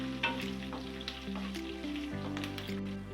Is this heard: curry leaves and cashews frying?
yes